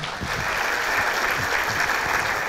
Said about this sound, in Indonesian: Ya tepuk tangan boleh.